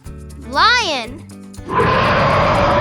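A lion roars once, loud and close, a sweeping call over children's music, followed by a dense, rough roaring burst that carries to the end.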